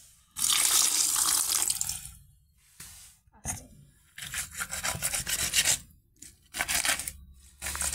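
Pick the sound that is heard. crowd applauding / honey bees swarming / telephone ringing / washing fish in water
washing fish in water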